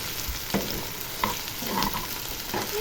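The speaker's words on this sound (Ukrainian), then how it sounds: "Це гарненько підсмажиться тут цибуля" Onions sizzle and crackle steadily in a hot pan, with occasional sharper pops and scraping, no voices.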